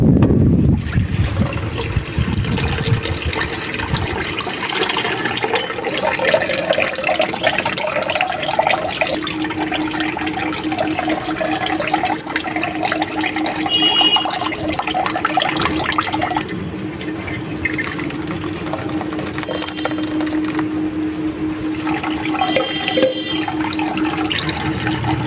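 Watermelon juice trickles and pours through a sieve into a bowl, a steady liquid stream with gurgling and dripping that runs continuously at close range for about twenty-five seconds.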